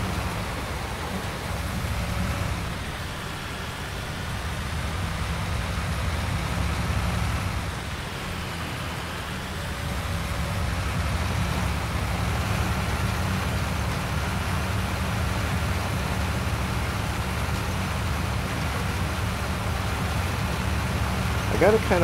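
Continuous rainfall patters steadily throughout on a farm, with a low rumble beneath and a faint sense of a passing vehicle in the distance.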